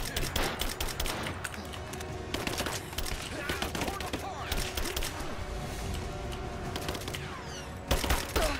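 Rapid gunfire bursts from the video game Rise of the Tomb Raider during a gulag escape, dense repeated shots and crackling volleys running throughout at steady loudness, with a sharper burst near the end.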